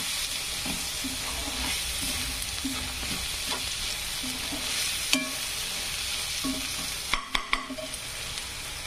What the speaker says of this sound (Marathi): कांदा छान असा फ्राय होऊ द्यायचा।